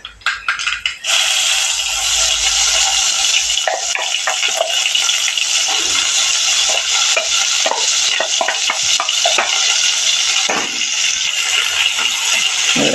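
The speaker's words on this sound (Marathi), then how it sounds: "आपण या तेलावर हे केलेलं वाटप घालणार आहोत" Ground masala paste frying loudly in hot oil for a white cowpea usal, with a steady dense sizzle and scattered stirring scrapes and clinks, no talking.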